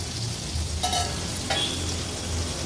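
Bangda mackerel frying in oil in a pan, a dense, even sizzle throughout with two brief louder bursts as the fish is shifted; no talking.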